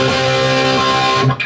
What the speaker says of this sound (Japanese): ぐわっと歪ませるとこんな感じ。